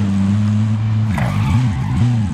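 A car in an online shooter video game drives with a steady engine drone and wavering tire skids, loud and close, with no talk over it.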